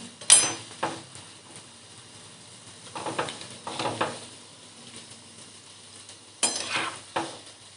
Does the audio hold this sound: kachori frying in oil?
yes